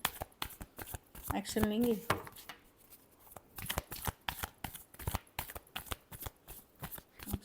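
Tarot cards shuffled by hand during a reading, giving a quick patter of soft flicks and slaps that runs on steadily while someone talks over parts of it.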